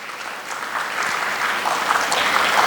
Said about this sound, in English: Please give a big round of applause to our guest.